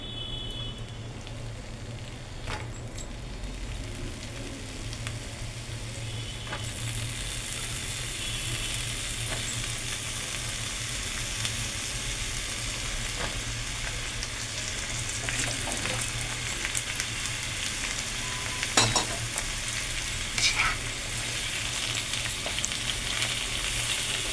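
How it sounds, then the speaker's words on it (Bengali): Ridge gourd pieces fry in hot oil with torn bay leaf and a dried red chilli, giving a loud continuous sizzle close up with occasional stirring scrapes throughout, and no talking. "তেলটা গরম হয়ে গেছে, আমি এবার তেজপাতা একটু ছিঁড়ে দিলাম আর একটা শুকনো লঙ্কা এর মধ্যে ছেড়ে দিলাম। এবার এর মধ্যে আমি ঝিঙেটা দিয়ে দিচ্ছি।"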